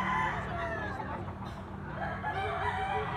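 A young stag gamecock crows nearby in a strained, drawn-out call, with clucking and a faint murmur of people in the background.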